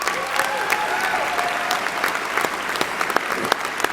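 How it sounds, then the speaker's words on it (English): A large crowd at a Humber College convocation ceremony applauds, a dense, continuous roar of clapping with scattered sharper claps standing out. "Let's give them a round of applause"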